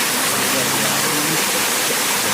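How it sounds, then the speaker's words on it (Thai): Natural waterfall in a forest on a hillside, a dense steady rush of falling water heard close and loud throughout. "เป็นน้ำตกธรรมชาตินะครับ"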